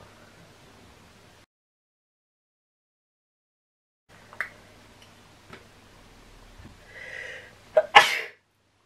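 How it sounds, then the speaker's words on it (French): A single sharp sneeze bursts out near the end, after mascara application, preceded by a quiet intake and faint ticking in an otherwise hushed room. "Éternuer après avoir mis son mascara"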